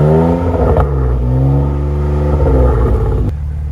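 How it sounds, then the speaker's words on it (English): The S55 engine of a 2015 BMW M4 has its throttle blipped two or three times, loud and close, its pitch swelling and falling with each blip before settling back toward idle. "So I'm gonna have her blip it 2 or 3 times."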